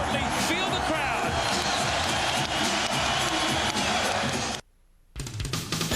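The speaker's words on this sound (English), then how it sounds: "A tremendous dunk. More importantly, feel the crowd." An arena crowd at the 1999 NBA Finals, Spurs vs. Knicks, roars loudly and steadily after a dunk, with courtside sounds mixed in, before the sound briefly cuts out and then resumes.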